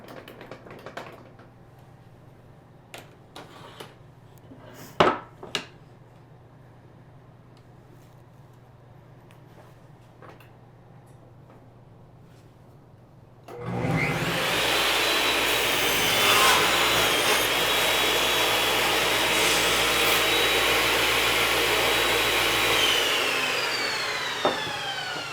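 Table saw with a crosscut sled cutting a small piece off a 2x4: a few light handling knocks, then the blade roars up loud and steady for about ten seconds before winding down.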